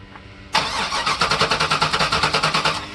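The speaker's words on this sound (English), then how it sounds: "Here's a test fire after finding the spark plugs." An LT1 V8 is test-fired after its spark plugs were replaced. After a brief quiet lead-in the starter cranks in a fast, even, loud chugging rhythm, and the engine keeps cranking without clearly catching.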